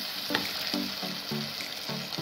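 Tomato and onion sauté together in a pan for a Kerala-style egg roast, a moderate steady sizzle broken by repeated short scraping strokes of a spatula against the pan.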